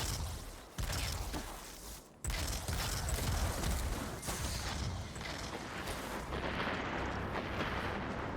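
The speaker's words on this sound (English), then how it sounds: "that was a lot of explosions" Rapid chains of explosions in the video game Destiny 2, dense booming blasts and crackling debris rolling continuously with two brief dips, loud and close with no talk.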